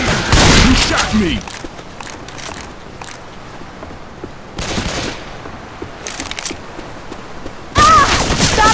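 Rapid bursts of gunfire in Left 4 Dead 2, loud volleys at the start, midway and at the end, separated by quieter stretches of game ambience with character voices.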